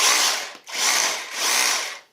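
An Assur 36V cordless hammer drill in hammer mode runs loudly in three bursts, each a rough, buzzing whir with a brief pause between, close up and alone.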